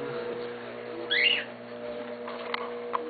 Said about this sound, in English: There's our two birds on the drapes.